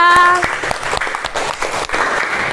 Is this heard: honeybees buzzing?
no